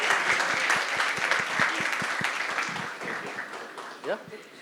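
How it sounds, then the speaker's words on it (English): An audience at a media launch event in India applauds Kartik Aaryan with dense, steady clapping that fades gradually, and cheers and voices rise through the crowd noise. "Let us all put our hands together and make a cheer for Karthik Aryan."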